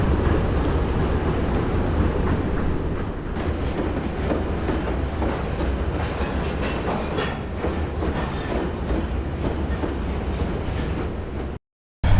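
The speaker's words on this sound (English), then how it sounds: "I actually caught some actual train movement on the bridge" A freight train with three locomotives rumbles across a bridge close by, with steady clattering wheels and a heavy low roar that continues throughout before cutting off abruptly.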